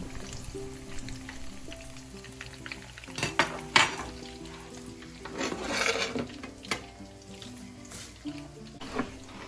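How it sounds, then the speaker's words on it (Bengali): Potato pops deep-frying in hot oil in a home kitchen, giving a steady sizzle with scattered pops and a few clinks of utensils against the pan, heard close up without talk. "এখন কিছু পটেটো পোপস ভেজে নিচ্ছি"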